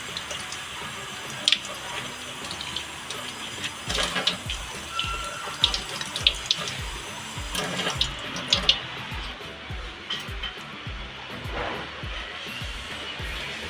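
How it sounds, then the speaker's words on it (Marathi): Colocasia (aluwadi) leaves are rinsed under a running kitchen tap, a steady splashing stream with irregular splatters and leaf handling throughout, close and moderately loud, with no speech. "आपल्याला पानं पहिला अशी वॉश करायची आहेत"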